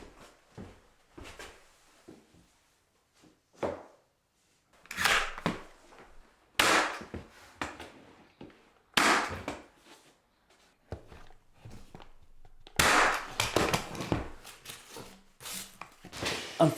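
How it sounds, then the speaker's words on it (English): A brad nailer firing nails into wall strips in a workshop: sharp, isolated snapping shots at irregular intervals, a few loud and some quieter, separated by near silence. "I'm going to put them in place and fire in a few brad nails"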